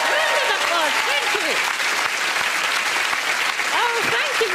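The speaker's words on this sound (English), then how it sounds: "Round of applause." Audience applause at a live comedy show, a dense and steady clapping that fills the whole stretch while a few voices speak over it.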